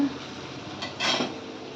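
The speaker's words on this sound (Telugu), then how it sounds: "ఉల్లిపాయలు ఒకసారి ఫ్రై చేయండి" Onions fry in a pan while a spoon stirs them, giving a steady soft sizzle with a brief scrape of stirring, close and fairly quiet, with no talk.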